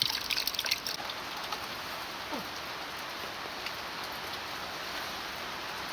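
Heavy rain pours steadily onto a mountain rice field, a dense continuous hiss of drops with some trickling water, loud and unbroken throughout with no voices.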